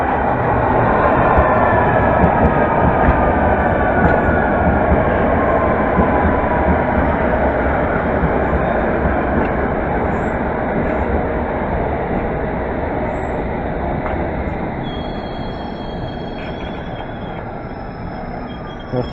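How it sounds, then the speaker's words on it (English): London Underground Metropolitan line train 1058 at Pinner station, a loud, continuous close rumble of rolling stock with faint wheel whine, holding steady for the whole stretch and easing slightly near the end, with no talk. "Train 1058 leads the way."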